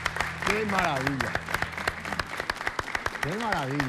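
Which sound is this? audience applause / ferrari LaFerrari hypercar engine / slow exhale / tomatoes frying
audience applause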